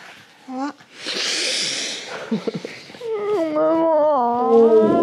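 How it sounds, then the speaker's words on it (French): A pet cat meows several times, its drawn-out, wavering cries rising and falling up close, with soft rustling and a person talking in between. "Oui, petit chat."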